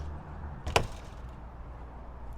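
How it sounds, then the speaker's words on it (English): The entry door of a 2021 Rockwood Mini Lite 2511S travel trailer opens with a single quick latch click and thump over a low steady background hum. "Door opens here and has a wind latch."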